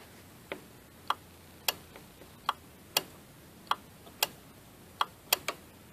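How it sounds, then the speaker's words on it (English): A relay in a car clicking on and off during a battery-drain hunt, sharp distinct clicks roughly twice a second in an irregular rhythm, close and clear with no talking. "Got a relay coming on and off."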